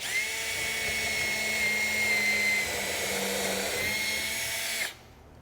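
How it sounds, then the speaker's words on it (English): A power drill whines steadily at high speed for about five seconds as it bores a pilot hole into wood, then cuts off abruptly. "So we drill a pilot hole like this."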